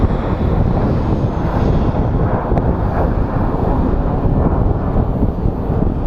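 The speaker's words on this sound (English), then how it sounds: "It is super windy today." Steady, loud wind buffets the microphone at Phoenix Sky Harbor International Airport, producing a constant low roaring rumble with no speech.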